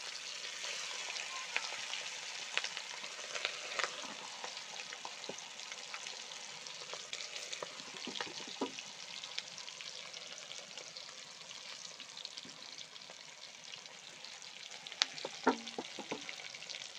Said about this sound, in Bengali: এই তেলটা আমি ভাজছি